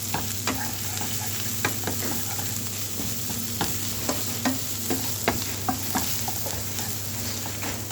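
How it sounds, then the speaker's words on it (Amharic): Onions and garlic frying in a pan, a continuous close sizzle broken by regular stirring scrapes and taps about once a second, with no voices. "ይሄው ሽንኩርቱ ደርሶልኛል ተቆላልቼ። ከዛ ነጭ ሽንኩርት ጨምራለሁ።"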